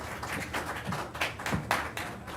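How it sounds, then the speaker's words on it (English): Audience clapping at a public hearing, a brief, fairly sparse round of applause heard at moderate distance in a room, with no speech. "let's just listen to everyone rather than start cheering or clapping or whatever"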